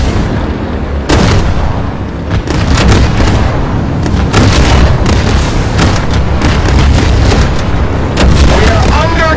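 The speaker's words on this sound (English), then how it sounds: "We are under gunfire!" Tank cannon fire and explosions boom in the online multiplayer PC tank game Tank Force, a dense, loud barrage of repeated blasts and bursts with voices shouting in the background.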